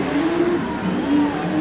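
Gene Cook's race car on a racetrack, its engine droning loudly and steadily with a rising, wavering pitch as it accelerates down the back straightaway, with no voices.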